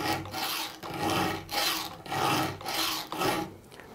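A file rasps back and forth across the chain of a Stihl GTA 26 saw in steady, even strokes, about seven close, clear scraping passes with brief pauses between them.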